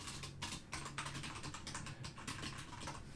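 Fingers patter on a computer keyboard during a coding session, with quick, uneven bursts of key clicks close to the microphone and no talking.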